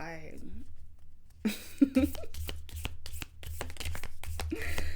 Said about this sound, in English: My shuffling sucks when it comes to round cards.